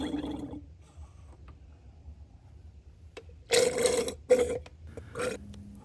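A turkey baster drawing power steering fluid out of the reservoir on a Lexus GX460, giving a few short gurgling, slurping sucks, the loudest two close together near the end, between quieter stretches.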